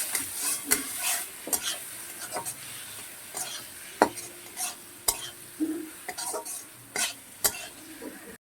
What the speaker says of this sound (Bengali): মশলা দিয়ে একদম ভাজতে হবে